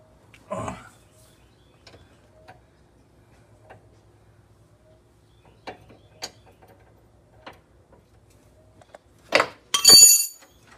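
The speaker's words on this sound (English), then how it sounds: "You crack the jam nut loose." Metal tools work on the jam nut of a tie rod during a front-end alignment on a Polaris Slingshot: a sharp clank at the start, sparse faint ticks and clicks in between, then a quick burst of ratcheting clinks at the end in a quiet space.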